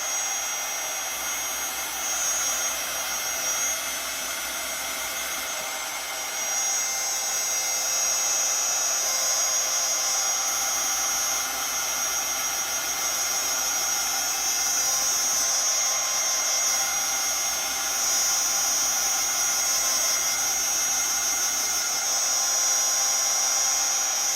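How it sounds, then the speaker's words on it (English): A hair dryer drying artwork runs continuously at close range, a steady loud whoosh with a high whine that holds for the whole stretch, no voices. "get the dryer plugged in"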